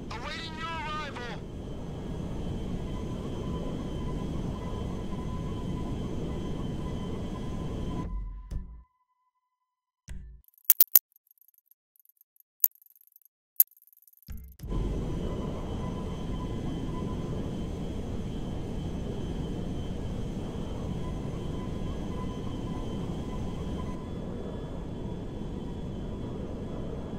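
Cargo jet in GTA 5 landing at an airfield, a steady loud engine roar that cuts out briefly with a few clicks and then returns at full level.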